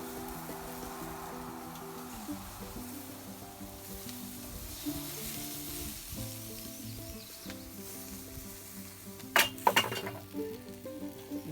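Grease dripping onto a grill fire and sizzling: a continuous, close crackling hiss throughout, with a few brief metallic clinks near the end.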